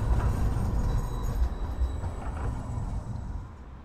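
A Freiburg city tram rolls along its line toward Günterstal at the foot of the Schauinsland, a steady rumbling run with wheel noise that gradually fades as it moves away.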